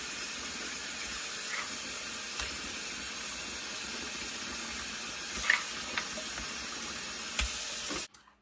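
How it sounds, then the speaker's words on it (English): Fresh tap water runs into a sink as a steady, close hiss with a few light clinks, then cuts off abruptly at the end. "So I've run fresh water"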